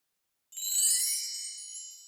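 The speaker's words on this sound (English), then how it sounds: "wind chimes" A bright shimmering cluster of chimes rings out after a moment of silence, tinkling and slowly fading, heard alone.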